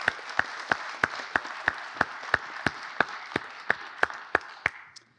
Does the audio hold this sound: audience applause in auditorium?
yes